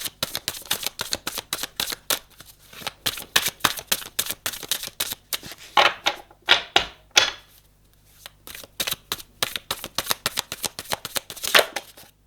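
Tarot cards riffled and shuffled by hand in rapid rattling bursts, crisp and close, with short pauses and slower slides between runs of fluttering clicks, no talk.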